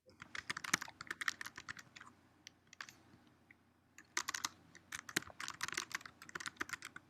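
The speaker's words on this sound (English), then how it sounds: "I'm hearing a little bit of typing too." Typing on a computer keyboard comes through a video call as bursts of rapid, light key clicks. Short pauses separate the bursts, and the sound stays fairly faint and close, with no talking over it.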